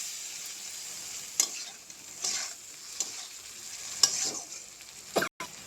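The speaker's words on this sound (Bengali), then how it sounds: "দেখুন কি সুন্দর টকবগিয়ে তেল ফুটছে। এখন দিয়ে দেব বেগুনগুলো।" Spiced oil bubbling and sizzling in a pan as eggplant pieces go in, a steady quiet fry broken by a few sharper crackles and stirring clicks, with no voices.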